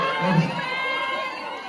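A concert crowd in Bujumbura cheering and applauding, with a dense wash of shouts and clapping rising briefly and then holding steady, loud and close, with voices mixed throughout.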